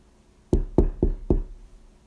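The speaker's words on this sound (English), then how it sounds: "the wolf ran straight to the grandmother's house and knocked at the" Four sharp knocks on a wooden door, evenly spaced and close, sounding alone in a quiet room during a fairy-tale reading.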